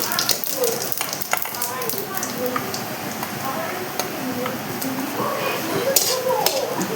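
Whole cumin seeds sizzle in hot oil in a home kitchen pan while a Bengali egg and potato curry is being made, a steady crackling hiss with sharp pops throughout, under a voice talking.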